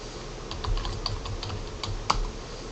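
Quick, close keystrokes on a computer keyboard patter in an uneven rhythm while a place name is entered into a search box, with one sharper key press near the end and no voices.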